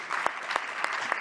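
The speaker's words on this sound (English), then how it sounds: "I think we should give them a round of applause." Audience applause, a brief burst of continuous clapping from a crowd at a talk on community-based services for adolescents.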